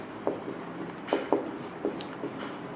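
Chalk or marker strokes on a board during a physics lesson, a handful of short, sharp taps and scrapes spaced irregularly over a low steady room hum, with no voices.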